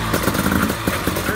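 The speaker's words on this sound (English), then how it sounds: "Start your engines." Several enduro motorcycles idling and revving together at the start of a pylon race, a dense, steady engine drone with rhythmic throttle pulses, loud and close with no speech.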